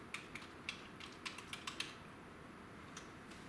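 Keystrokes on a computer keyboard entering a search into the Windows search box, a quick irregular run of light clicks with a couple of later taps, close and fairly soft in a quiet room.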